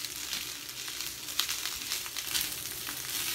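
Ground turkey sizzles in a pan during a one-pan stir fry, a steady broad hiss with small crackling pops, close and continuous with no talk.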